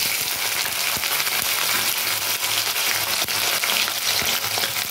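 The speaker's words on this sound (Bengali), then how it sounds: "সেই আলুটা আমি এখন ভেজে নেব" Small cut potato pieces deep-frying in mustard oil in a wok, a loud, continuous sizzle with steady crackling, close up and with no voices over it.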